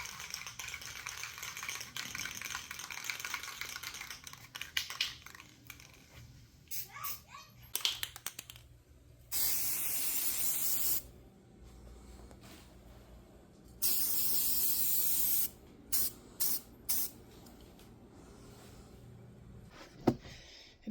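Bursts of aerosol spray paint hiss as book page edges are sprayed through a stencil, two long sustained blasts and several short puffs, close by, with faint background chatter between them.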